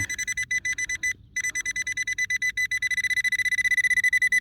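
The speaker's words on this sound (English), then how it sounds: "I am getting a signal on the pinpointer now." A handheld metal detector pinpointer beeping on a buried target, a rapid loud train of high electronic pulses that briefly pauses, then speeds up as the signal strengthens.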